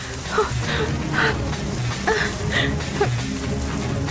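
Steady rain falls as a dense, even hiss with scattered drops, continuing throughout beneath a few brief, faint background sounds.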